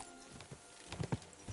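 Horse hooves in Kingdom Come: Deliverance II, a few soft clip-clop thuds landing near the end of a short, quiet stretch, with no talk over them.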